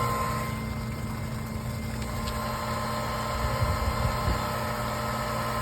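A water pump motor drawing water from an aquarium hums steadily and evenly at close range, a constant mechanical drone with no breaks or changes in pitch.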